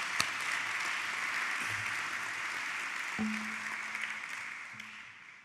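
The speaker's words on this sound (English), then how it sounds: "So let's give them a round of applause." Audience applause at a county government State of the County address, a steady wash of clapping that fades gradually across the five seconds, with a few brief low tones near the end.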